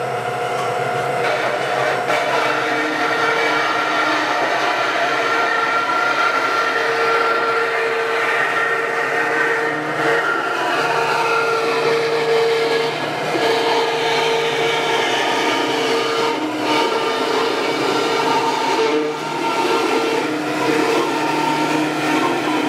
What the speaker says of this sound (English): I'm going to use the bandsaw to cut that. I can cut through the plywood and the foam all at the same time.